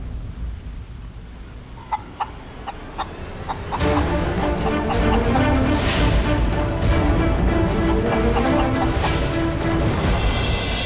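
A few sharp, spaced clucks sound first, then a denser burst of hen clucking and squawking follows, busy and close.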